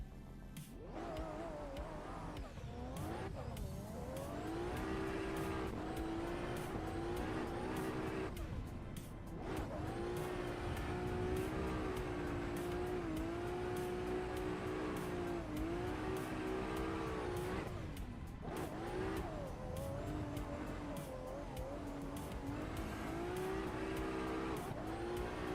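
A drift car slides around the Formula 1 section of a circuit, engine revving and bouncing off the limiter in repeated surges, with tire squeal and brief lifts between bursts, loud and close.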